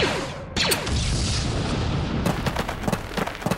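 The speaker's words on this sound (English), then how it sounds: "The charge is set and ready to detonate." A demolition charge detonates on a bunker in the LEGO Star Wars Clone Wars video game, a loud booming blast followed by rumbling debris and scattered smaller pops.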